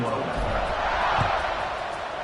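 A football stadium crowd at a Florida State game roars as the teams line up for a kickoff, a broad distant wash of cheering that stays steady with a slight swell midway.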